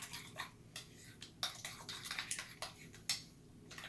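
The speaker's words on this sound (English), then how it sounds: "And we're just going to mix this up." A spoon scrapes and clinks against a bowl while stirring homemade tartar sauce of dill pickles, lemon juice and Worcestershire sauce, giving quiet, irregular taps and scrapes close by.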